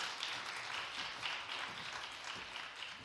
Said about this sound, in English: Clap it up for her, please.